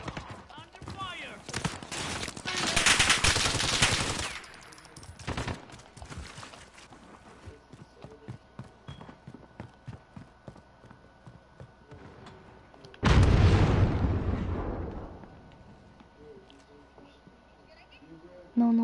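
Rapid bursts of video game gunfire with louder explosive blasts, one early and one heavy late, over long stretches of quieter scattered shots, under excited player voices talking.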